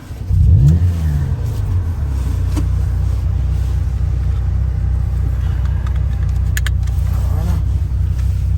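A Ferrari engine revs sharply as the car pulls away, then settles into a steady, loud low drone heard from inside the cabin.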